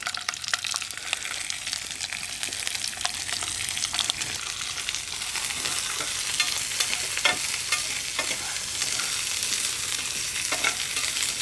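Garlic, eggplant, chili and bell pepper sizzle steadily in a hot frying pan, a continuous crackling hiss with occasional stirring scrapes and spatters, close and alone with no talk.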